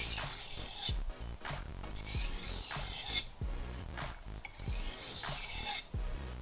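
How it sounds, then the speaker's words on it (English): A chef's knife drawn across a 1000 grit whetstone makes repeated rasping scrapes, a few strokes per side. Each close, gritty stroke swells and fades in an even rhythm. "We're going to take a few more cuts. About 3 per side."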